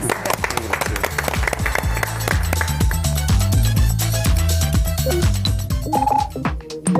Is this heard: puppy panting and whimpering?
no